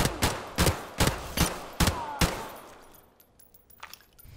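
Rapid, evenly spaced gunshots ring out in Call of Duty Modern Warfare Remastered, about six sharp loud reports in two seconds, then the firing fades into quieter scattered clicks and distant pops.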